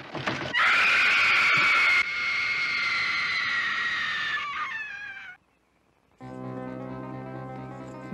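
A woman's long, piercing horror-film scream from Slumber Party Massacre, loud and sustained before trailing off, followed by a short silence and then tense low music.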